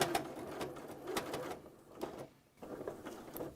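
A sewing machine stitching down a fabric potholder along a diagonal fold runs in short, quiet bursts of rapid mechanical whirring, pausing briefly between runs.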